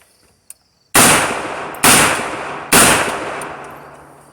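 Three loud, close gunshots from a 7.62x39 AR pistol, evenly spaced about a second apart outdoors, each with a long echoing decay, preceded by a faint small click.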